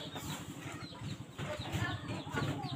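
Chickens cluck in a flood-soaked rural yard at a house left standing in water, faint and scattered over a steady background hiss, with short calls repeating irregularly.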